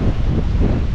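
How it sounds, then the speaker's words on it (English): Strong wind blows across the water near a kayak launch by the rocks, a loud, steady low roar buffeting the microphone for just under a second. "Look how windy it is, man."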